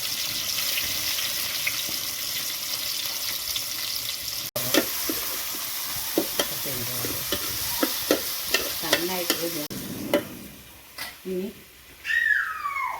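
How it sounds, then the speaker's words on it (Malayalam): Crushed shallots and garlic frying in hot coconut oil for a village-style raw plantain upperi give off a steady, close sizzle with scattered stirring clicks, while a voice talks over it and the frying briefly quiets near the end. "വെളിച്ചെണ്ണ ചൂടായതിന് ശേഷം നമുക്ക് അതിൽ ചതച്ച് ഉള്ളിയും വെളുത്തുള്ളിയും അത് ചേർക്കാം"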